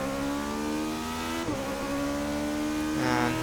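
A Toyota race car engine in Forza Motorsport 6 drones steadily at high revs, with two quick gear-shift dips, loud and close.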